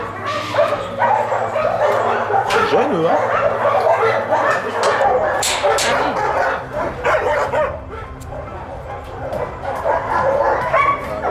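Dogs at an animal shelter barking and yipping in a busy chorus, housed in pairs, with whimpers mixed in throughout; a person speaks briefly over the steady noise.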